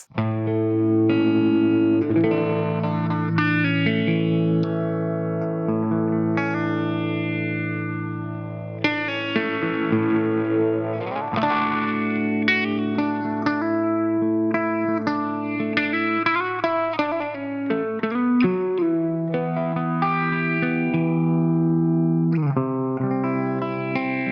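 Electric guitar notes swirl through a Flattley Star Fazer phaser pedal at a slow rate, the tone gliding up and down gradually as chords and single notes ring out.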